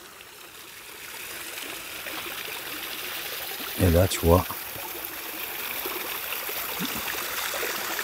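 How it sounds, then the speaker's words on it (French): Steady rushing of a small river flowing nearby in the Colorado Provençal, continuous throughout, with a brief burst of someone speaking in the middle. "La petite rivière en amont."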